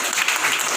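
Audience applause fills a short moment at an award function in Hyderabad, a dense, steady wash of clapping from a crowd with no pauses.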